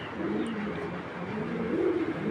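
A male DB-bloodline racer pigeon bred in 2021 coos in a low, steady, soft murmur, close by and continuous with no talking.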